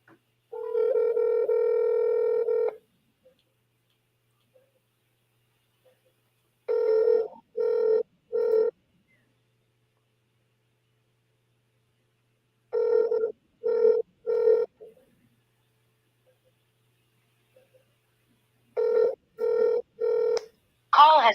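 A telephone call rings out in repeated electronic tones: one long tone, then three groups of short pulses spaced several seconds apart, clean and steady against near silence.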